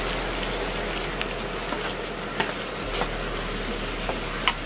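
Three quarters of a kilo of onions fry in plenty of hot oil, a dense and continuous sizzle with occasional crackles and pops, steady and close throughout with no talking.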